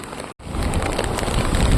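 Heavy rain pours down at the new harbour beach in Thoothukudi, a steady broadband wash after a brief dropout near the start, loud and continuous with no voices.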